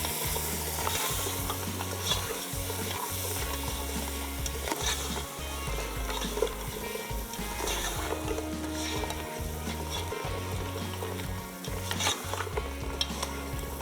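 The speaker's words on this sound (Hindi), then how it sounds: "और ये मसाले डालने के बाद भी आपने अच्छे से जो है इसको भून लेना है।" Spices and salt sizzle in hot oil for yakhni pulao while a spoon stirs steadily, scraping the pan in a regular rhythm. The frying hiss stays loud and close throughout, with no voices.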